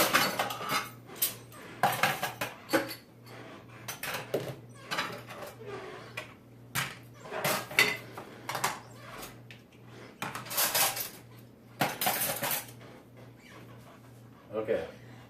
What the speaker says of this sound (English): you got to take everything out of the sink and stack it up over here